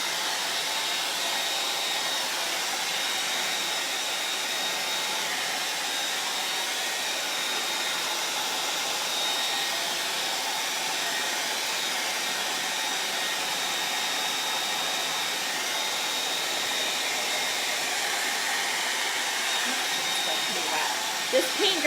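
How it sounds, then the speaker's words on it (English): A hair dryer blows steadily to dry paint, a constant close, loud airy whoosh that runs unbroken for the whole stretch with no talk over it. "This paint dries really fast, especially with a hair dryer."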